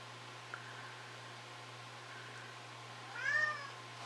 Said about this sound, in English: now our cat Ziggy is back here meowing